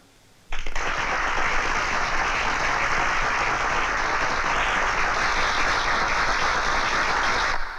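A crowd bursts into sudden, loud applause after a brief quiet moment, sustaining a dense, even clapping for several seconds before it starts to ease off at the end.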